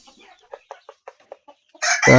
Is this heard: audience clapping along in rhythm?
no